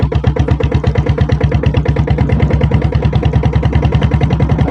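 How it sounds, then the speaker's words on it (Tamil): A 7.5 hp company-built diesel Bullet motorcycle runs at idle. Its engine and silencer give a loud, close, steady thumping beat with rapid, evenly spaced pulses throughout. "வண்டி பீட் தான் ஃப்ரெண்ட்ஸ், சைலன்சர் பீட் தான்."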